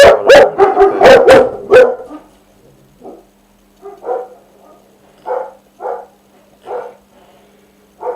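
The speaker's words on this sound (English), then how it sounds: "the dogs have been barking again" Dogs bark loudly in a rapid burst close by, then quieter barks and yips repeat at intervals from farther away.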